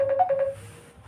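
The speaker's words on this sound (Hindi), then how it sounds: "फोन बज रहा है" A mobile phone rings during a maths lesson on matrices, its steady electronic tone pulsing in short repeated bursts for about half a second before stopping, loud and close over a faint low room hum.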